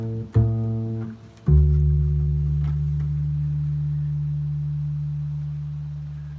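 Two plucked bass guitar notes with effects, the second sustaining as a deep, smooth tone that slowly decays over several seconds.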